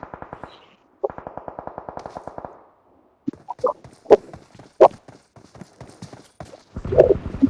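Automatic gunfire in the PUBG battle royale game rattles in two rapid bursts, followed by scattered louder single shots and impacts, all close and punchy.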